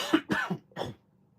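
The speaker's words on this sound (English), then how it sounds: "So if you hear me coughing a little bit, don't mind me" Three short, harsh coughs in quick succession, the last slightly separated, then quiet with a low steady hum behind.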